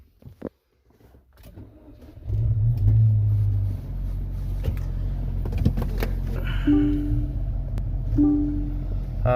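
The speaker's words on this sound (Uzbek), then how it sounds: "Mashinada qaltirash bor." An MG 5 car with a rough-running, misfiring engine: a sharp click and thump, then the engine starts and holds a steady low rumble with small irregular surges and a few mechanical clicks, close and without talk.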